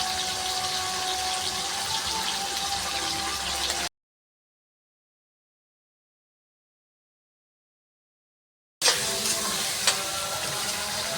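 Cumin powder and spices sizzle in a hot pan for a Bengali jackfruit-and-meat curry, a steady close hiss of frying that cuts to silence for about five seconds, then resumes with a few sharper crackles.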